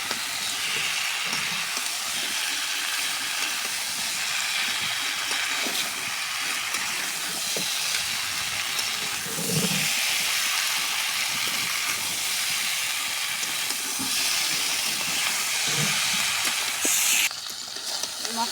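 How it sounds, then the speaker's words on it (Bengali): Spices sautéing in a kadai with drumstick, a constant loud hissing sizzle held throughout with occasional stirring knocks, no voices. "এখন মশলার সাথে আমি কষিয়ে নেব"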